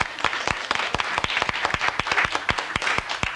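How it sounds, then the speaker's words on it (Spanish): Audience applause for Verónica on a Spanish-language news program's farewell broadcast, a crowd clapping in a quick, fairly even rhythm, close and loud with distinct sharp claps across the whole stretch. "aplaudimos a Verónica"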